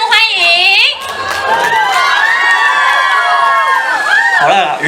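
A crowd at an outdoor concert cheers and shouts loudly for a singer, with high whoops and sustained excited voices close by and strong throughout.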